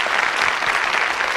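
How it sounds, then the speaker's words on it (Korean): The audience at an architecture talk show gives a short, dense burst of applause that is loud and steady throughout. "다시 박수 부탁드리겠습니다."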